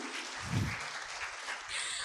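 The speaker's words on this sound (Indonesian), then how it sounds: "Tepuk tangan sekali lagi untuk Bapak Suryadi." A lecture audience claps steadily, a dense wash of applause filling the room without pause.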